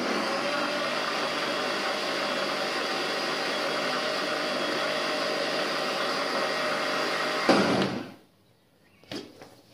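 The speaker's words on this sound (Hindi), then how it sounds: "ग्राइंड कर देबा" A kitchen blender whirs steadily at close range while grinding buttermilk with milk for mango lassi, a loud continuous motor drone for about seven seconds that cuts off abruptly, followed by a brief clatter.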